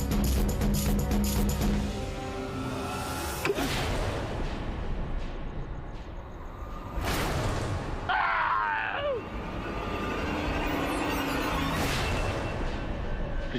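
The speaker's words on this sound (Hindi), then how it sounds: "फिर से चिल्लाने की आवाज" A person's scream rises briefly out of a dense, rumbling background of dramatic music and effects in an indoor TV drama scene. It sounds mid-distance and lasts about a second.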